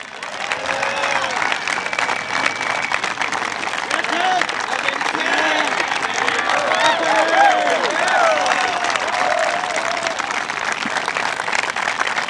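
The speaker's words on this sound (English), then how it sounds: "Can we please give a big round of applause as they come out to the M to Teddy and Susan and Nagnos" A crowd at a Blue Day dedication event gives a big, sustained round of applause for Teddy and Susan, dense clapping with scattered cheers and voices mixed through it for the whole stretch.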